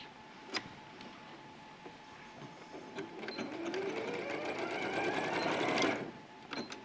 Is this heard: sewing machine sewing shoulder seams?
yes